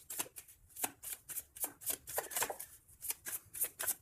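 Tarot cards are shuffled by hand in a run of quick papery riffles and flicks, close and fairly soft, with brief pauses between bursts and no talk.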